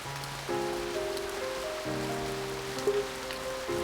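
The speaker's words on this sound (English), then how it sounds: "The only answer I hear is the falling rain." Falling rain from a visual novel game makes a soft, steady patter, overlaid by gentle sustained musical tones that change pitch every second or so, with no voices.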